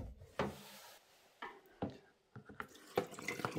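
Water trickling and dripping from a Samsung washing machine drain filter into a container, a faint irregular series of splashes and drips with quiet gaps between them.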